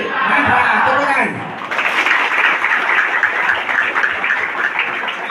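At a Monday flag ceremony, a speaker's voice first rings out over a loudspeaker, then a crowd breaks into sustained clapping that continues steadily and fairly loud until the end.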